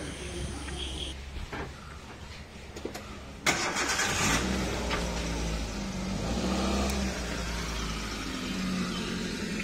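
A car's engine cranks and catches partway through, then settles into a steady idle and low rumble as the car pulls out, close by, after a quieter stretch of background noise at home.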